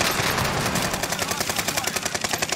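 Rapid automatic gunfire from the shooter game Warzone on Rebirth Island rattles out in a dense, continuous burst of loud shots with no pauses.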